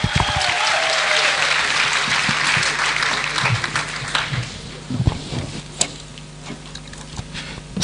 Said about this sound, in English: Let's give her a thunderous applause